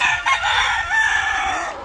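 Layer hens, White Leghorn and Black Australorp, cluck and crow loudly and close by on a farm, a dense continuous chorus of fowl calls with no talking.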